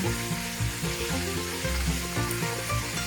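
Pork wontons deep-frying in hot oil, a dense steady bubbling sizzle with soft knocks as they are flipped, close and constant with no voices.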